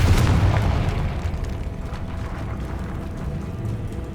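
A Confringo fire spell explodes in the Hogwarts Legacy video game, opening with a loud booming burst that rolls into a sustained low rumble lasting several seconds, with no talking.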